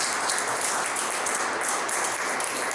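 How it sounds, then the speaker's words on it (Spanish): A large audience applauds at a live talk on the history of video games in Spain, a loud, continuous, close wall of clapping with no speech over it. "vamos a recibir con un fuerte aplauso a Diego Vargas."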